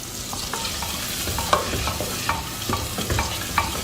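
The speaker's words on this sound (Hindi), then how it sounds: "अच्छे से दही को इसमें मिक्स करेंगे और 10 मिनट हम इसे मज़ीद पकाएंगे" Yogurt is stirred into mutton and cauliflower curry cooking in a pot, a close repeated scraping and stirring rhythm over a low sizzle, no voices.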